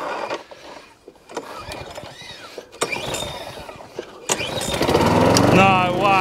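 A lawn mower engine is cranked with the key, after having a battery that needs charging. Uneven mechanical turning and clatter come in bursts between a voice, then the engine catches and roars steadily near the end.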